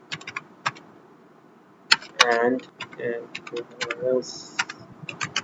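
A name being typed on a computer keyboard: quick irregular clusters of sharp key clicks, close and clear, with a person talking over part of the typing.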